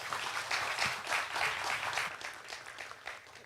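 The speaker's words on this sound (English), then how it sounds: "round of applause for the board" An awards-event audience claps steadily in sustained applause, dense and even throughout, with the clapping tapering slightly near the end.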